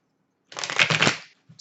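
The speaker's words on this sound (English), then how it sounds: "Just going to shuffle your cards here." A brief riffle of tarot cards being shuffled, a quick papery flutter lasting under a second, close and fairly loud, followed by a soft tap.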